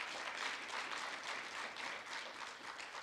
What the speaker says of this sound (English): That is remarkable and deserves a round of applause.